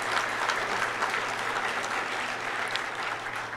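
Audience applause at a university panel event, a steady wash of many hands clapping at moderate volume, sustained and even throughout without talk over it.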